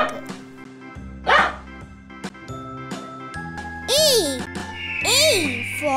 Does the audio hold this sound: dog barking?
yes